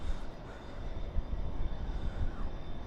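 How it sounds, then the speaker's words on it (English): A China Airlines Cargo plane starting up its engines at Dallas/Fort Worth airport at night, a steady low rumble with a faint high whine, moderately distant and continuous. "And right now, China Airlines Cargo is starting up their engines."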